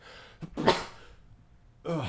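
A single sharp sneeze from one person, close and abrupt with a quick intake of breath before it, followed by quiet and then a voice starting to speak.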